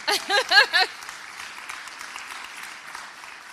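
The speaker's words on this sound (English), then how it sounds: "clap for that" Faint, diffuse applause from an audience at a mayoral farewell address, briefly following a short burst of a voice and then lingering as a soft, steady patter at a distance.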